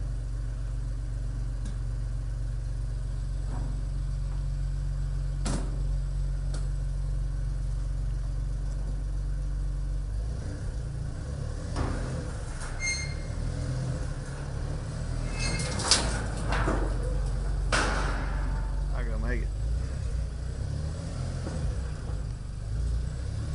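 A Tracker off-road vehicle in four-wheel drive gives a continuous low engine rumble throughout. Scattered knocks and rattles come in during the second half, with no talk.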